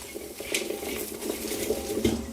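Galangal, shallots, kaffir lime leaves and lemongrass are dry-roasted in a pan, with a spatula scraping and clinking against the metal in quick, uneven strokes, close and fairly loud.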